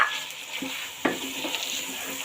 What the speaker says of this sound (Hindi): इसको हम अच्छी तरह से इसकी भुनाई कर लेंगे और इसमें साथ ही हम ऐड करेंगे जो मेरे पास 6 अदद ग्रीन चिल्ली थी वो ऐड कर देंगे